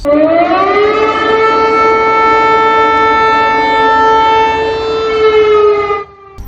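A loud air raid siren in Poland winds up and holds a long steady wail, then fades out near the end.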